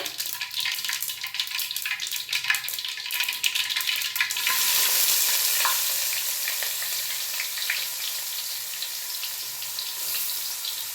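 Onions and green chilies sizzle loudly in hot oil in a pan for chole masala, the frying growing into a steady, dense hiss after a few seconds, with occasional stirring scrapes and no talking.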